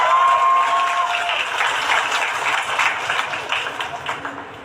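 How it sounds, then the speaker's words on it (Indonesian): An audience at a student discussion forum claps steadily, loud at first and gradually fading over a few seconds. "Tepuk tangan dulu buat Andi."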